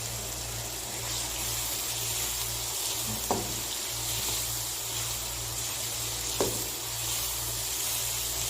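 Half-fried onions with turmeric sizzle in a pan, giving a steady bright hiss over a low hum, with two brief spatula knocks against the pan; close and continuous, no talking.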